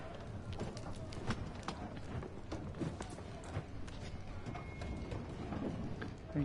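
Horse hooves clip-clop in a quick, running rhythm in Assassin's Creed III Remastered, set against a busy game soundscape at moderate loudness.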